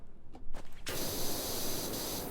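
Spraying in a video game while cleaning a ship's figurehead: a few soft taps, then a loud continuous hiss of spray running steadily to the end.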